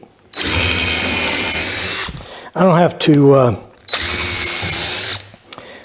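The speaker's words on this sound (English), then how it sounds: "Here I'm just pre-drilling the holes for the cleat." A power drill pre-drills holes in a wooden cleat for a garden gate: two loud, sustained whining bursts, each a couple of seconds long, with someone speaking briefly in the pause between them.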